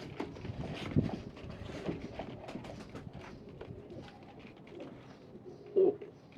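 Fancy pigeons of Rampuri and black-faced breeds cooing in a loft, soft repeated low coos with a louder burst near the end and a few faint thumps.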